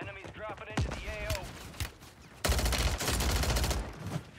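Gunfire strikes the player in Warzone 3 on Rebirth Island, coming as rapid, loud, dense bursts of shots in the second half, while a voice talks over the early part.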